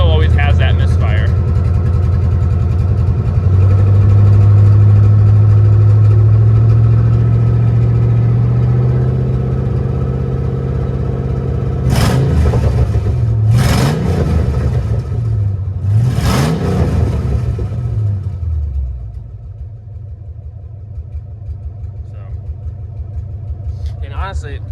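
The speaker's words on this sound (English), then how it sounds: "you can see it still always has that misfire" Chevrolet C3500HD truck engine running with a misfire, a loud close idle that rises and settles, with a few sharp revs partway through.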